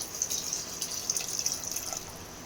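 Water being poured into a pan of mutton gravy during Telangana-style home cooking, a soft steady trickling and splashing at close range, continuous and fairly quiet, with no talk over it.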